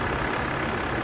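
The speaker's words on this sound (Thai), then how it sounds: "เสียงเครื่องยนต์ดีเซลนะครับ" A BMW X6 diesel engine idles steadily with an even, low, continuous rumble heard close by, with no talking.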